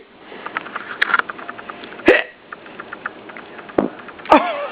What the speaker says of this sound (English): We both got the hiccups?